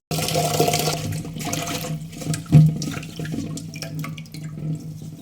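Ingredients for a homemade hair oil are washed under running water, giving a steady close stream of tap water with splashing and one louder splash midway, with no talking.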